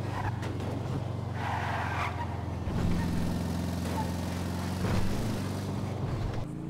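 A Eudora stock car in GTA 5 Online drives steadily with a droning engine hum, tires skidding and squealing briefly as it turns, with no talk over it.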